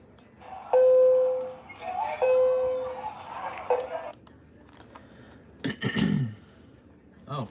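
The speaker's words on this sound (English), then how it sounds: "Oh, code blue alarm?" A hospital code blue alarm tone from a speaker strobe: two long, steady electronic tones, the first loud and sustained, the second with a warbling texture. A short burst of voice and throat noise follows near the end.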